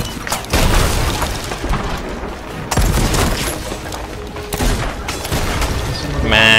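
Heavy naval gunfire in a ship-combat video game, booming cannon blasts and bursts of rapid firing that come in clusters over a continuous rumbling battle din, loud and close.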